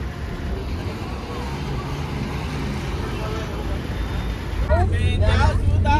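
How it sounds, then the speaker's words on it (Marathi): Steady low rumble of jammed road traffic heard from inside a bus, engine drone and road noise continuous, growing slightly louder near the end, with people talking. "बघू शकता जाम ट्रॅफिक आहे"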